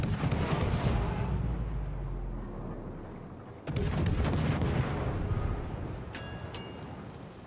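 Warship guns fire in a naval battle video game, two heavy booming blasts a few seconds apart, each followed by a long rumbling roar, with faint metallic pings near the end.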